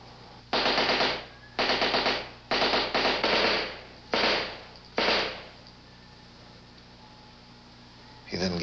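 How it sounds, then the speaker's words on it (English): British 9mm Mark II submachine guns are test-fired on a range in loud, close bursts of automatic fire, about six short strings separated by brief pauses, each with a fading echo tail. "Hamilton says, we'll go down to the range and we'll test fire these weapons"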